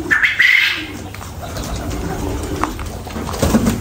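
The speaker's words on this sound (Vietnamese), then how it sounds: "Mấy bồ câu này ở đây có cái cửa sổ nè, mấy bồ câu cứ bay ra bay vô." Pigeons coo inside a quail coop, with a soft throaty coo near the start and another near the end over a quiet background hum.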